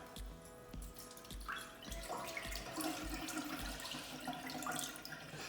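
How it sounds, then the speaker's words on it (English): Water poured off rinsed rice in a pan, a steady close trickle and splash with faint drips, some light clinking along the way, no talk. "we're going to pour off as much water as we can"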